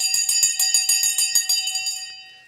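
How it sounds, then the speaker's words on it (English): A bell rings in a quick series of bright metallic strikes, about a dozen in a steady rhythm, close and fairly loud, then fades into a ringing decay at the end. "The bell is gone."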